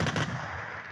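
A German Gepard air defense cannon fires a short, loud burst of rapid shots that fades into a trailing rumble, with no voices present.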